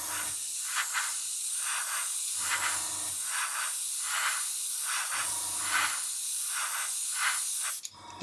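An airbrush sprays clear coat onto a scale model in a series of close, steady hissing bursts with short pauses between passes, and no one speaks.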